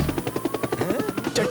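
A cartoon helicopter flies with rapid, evenly spaced rotor chops in a fast thudding rhythm, fairly loud and close, with a brief higher sound near the end.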